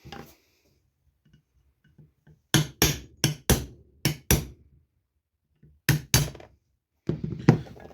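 Sharp hammer blows knock out a part on an engine being prepared for sale, close and loud metallic strikes in quick groups of two with short silent gaps between.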